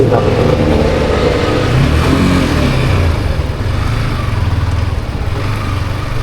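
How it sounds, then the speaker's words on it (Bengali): A Yamaha R15M version 4 motorcycle being ridden, its engine droning loudly and steadily with a low, pulsing hum that eases slightly in the second half, heard up close with wind rush. "আসলে আরেকজনের বাইক চালাচ্ছি"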